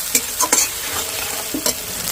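Onion and tomato frying together for ghugni, with a few sharp spoon or spatula scrapes against the pan over a continuous low sizzle, close and without talk.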